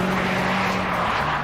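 A Honda 2-litre VTEC engine screams at high revs, a dense, loud, sustained wail held steady through a gear with no talk over it.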